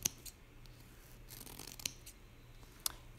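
Scissors snipping through light pink tutu fabric, a few short crisp cuts spaced apart at close range over a quiet room background.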